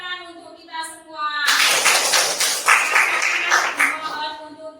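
Schoolchildren in an elementary classroom break into a burst of group hand clapping after a short stretch of talk. The clapping is dense, loud and close, then thins out toward the end.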